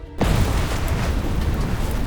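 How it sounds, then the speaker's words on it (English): An explosion and building collapse in the video game Love and Deepspace: a sudden broadband boom bursts in after a brief quieter moment, then a loud, dense rumbling crash roars continuously to the end. "A deafening explosion cuts off the newscaster, and an abandoned building collapses with a loud crash."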